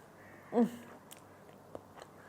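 A single crisp bite and crunch into a baked onion galette with cheese and crunchy pastry, close and clear in a quiet room, followed by faint soft chewing.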